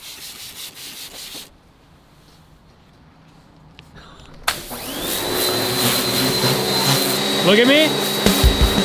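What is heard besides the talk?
scrubbing car engine bay with Scotch-Brite and degreaser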